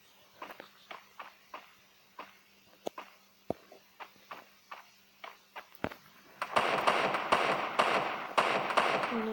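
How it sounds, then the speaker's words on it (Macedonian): Gunfire in a Free Fire battle sounds as a string of faint, distant, irregularly spaced cracks. It gives way to a denser, louder stretch of rapid shots near the end. "Некој се пука."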